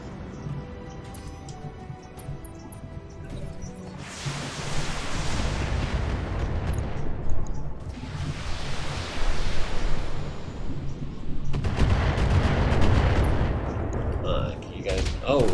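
Short-range missile salvos from a mech in the BattleTech strategy game slam into a building: three loud, broad rushing blasts, each rumbling for a couple of seconds, over a low steady background.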